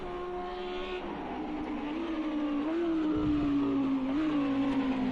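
A race car on slick tires rounds the hairpin, its engine droning in a steady high note that dips and rises with gear and throttle, with a brief tire scrub midway, close and continuous.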